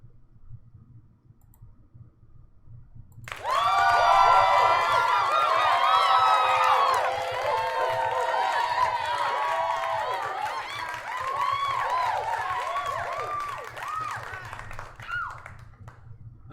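Applause and cheering from a crowd for a donation, dense clapping starting suddenly and continuing loud and steady, then slowly thinning toward the end.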